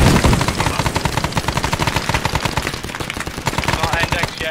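Rapid, rhythmic heavy gunfire from an aircraft strafing run in Arma 3's Vietnam-era Prairie Fire setting, a loud, close, steady machine-gun rattle lasting several seconds.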